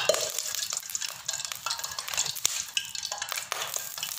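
Chicken pieces frying in hot oil in a karahi, with a crackling sizzle under repeated scraping stirs and light utensil knocks against the pan, near and without talk.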